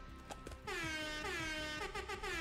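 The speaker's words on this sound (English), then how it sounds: "Air Horn emote." Blasts from the Air Horn emote in the video game Fortnite, a loud brassy horn tone held over about two seconds with wavering pitch, following a brief quieter stretch.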